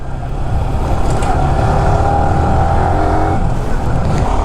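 A Harley-Davidson motorcycle being ridden: a loud, steady engine drone with a low rumble and a faint whine, heard continuously with strong wind noise and no talk.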